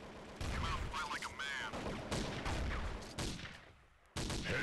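Gunfire from an automatic sniper rifle in a video game, several sharp loud shots in quick succession mixed with voices talking over the action, and a brief quieter gap before a final burst.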